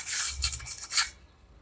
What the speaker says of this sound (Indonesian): Saya amplas dulu gergaji, mata pistol gergajinya supaya tajam kembali.